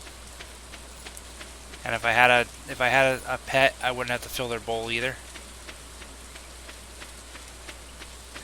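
Steady soft rain patters throughout a farming scene in the video game Stardew Valley, a constant hiss under someone talking in the middle of the stretch.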